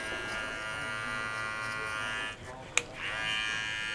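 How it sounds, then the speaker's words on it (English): Electric hair clippers run clipper-over-comb on the crown of a customer's head in a barbershop, a steady close buzz with a brief dip and sharp click near the end before the hum resumes. "I use clipper over comb to get that down"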